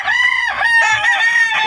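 Gamefowl rooster crowing loudly and close, one long sustained crow with a second crow following, harmonic and strained, with no talk over it.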